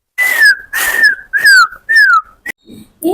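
A person whistles in imitation of a pressure cooker whistling over biryani: four loud, sliding whistles in quick succession, each falling in pitch, then a short chirp.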